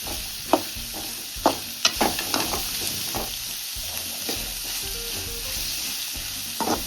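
Green chilies frying in hot oil until golden for a village-style greens stir-fry, a steady close sizzle with a few sharp spatula scrapes and stirring knocks early on, no talking.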